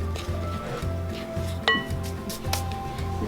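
Sourdough biscuit dough with butter and sugar is gently mixed in a bowl, making soft squishing strokes with occasional light clinks of a utensil against the bowl, close and steady, with no talk.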